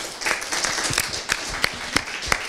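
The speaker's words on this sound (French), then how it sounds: "bravo, on peut encore les applaudir" Audience applause at a French school film competition award ceremony, a steady wash of many hands clapping with a few sharper, louder claps standing out near the front.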